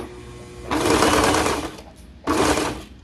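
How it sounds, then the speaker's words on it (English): A serger stitches through fabric in two close, loud mechanical bursts, a long whirring run followed by a brief pause and a shorter run, with quiet room tone between. "I'm gonna go ahead and serge just enough so that the needle goes into the fabric"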